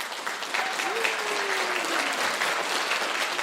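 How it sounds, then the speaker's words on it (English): An audience gives a round of applause for a jingle and musical signature composer, a steady wash of clapping with a voice speaking briefly over it. "A round of applause."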